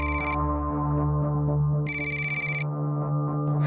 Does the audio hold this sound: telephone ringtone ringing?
yes